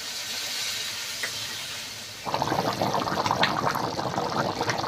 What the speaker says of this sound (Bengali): বাবা, ফুটছে কি জোরে।